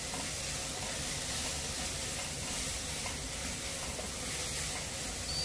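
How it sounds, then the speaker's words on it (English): Onions with a pinch of salt frying in a pan for chicken Patiala, a steady close sizzle and hiss running unbroken throughout, with no voices. "So allow our onions to cook."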